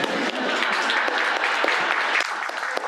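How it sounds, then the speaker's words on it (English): Audience applauding a chef's speech, a steady, fairly close wash of many hands clapping with a few sharper individual claps standing out. "So big round of applause to my parents"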